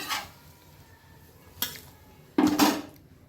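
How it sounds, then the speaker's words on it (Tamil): Millet adai is flipped and lifted off a pan, with a few distinct close metallic scrapes and clanks of a spatula against the pan, separated by brief quiet gaps. "இப்போது திருப்பி போட்டுக்கலாம். அடை இப்போ வெந்துடுச்சு, எடுத்துடலாம்."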